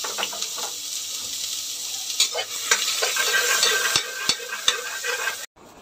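Onion sautéing in a pan gives a continuous bright sizzle, with several quick utensil clicks and scrapes against the pan as it is stirred, close up and steady before cutting off abruptly at the end.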